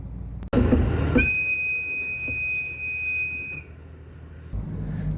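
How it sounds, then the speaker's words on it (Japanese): A train pulling into Hosooka station on a Hokkaido line, with loud rolling rumble and a sustained high-pitched brake squeal or whistle tone that holds for a couple of seconds before fading, close by. "列車は細岡駅に到着です。"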